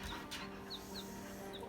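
Faint, high baby-chick peeps come in short separate chirps every fraction of a second over a quiet indoor hum; the birds are newly arrived future layer hens kept in plastic tubs.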